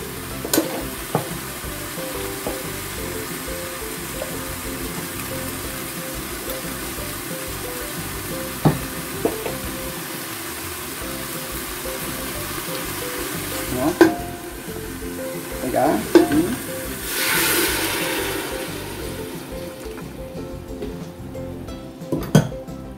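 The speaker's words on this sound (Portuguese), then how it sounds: "Agora a gente vai pegar toda a nossa deglaçagem, Vou até limpar mais um pouquinho aqui." Stirring and scraping in a pan for vaca atolada, beef with cassava, as the fond is deglazed. Low steady sizzling runs under scattered utensil clinks and knocks against the pan, with a louder scrape near the end.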